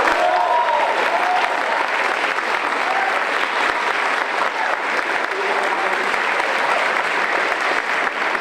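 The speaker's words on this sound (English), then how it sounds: "One more round of applause, please" A crowd at a school spring night concert applauds continuously, a loud, even roar of many hands clapping that holds steady without a break.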